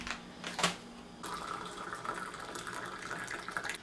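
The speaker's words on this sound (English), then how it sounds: "Can't talk while I pour coffee." Coffee poured into a cup at home, a steady liquid stream running for several seconds after a brief clink, fairly close with no talking.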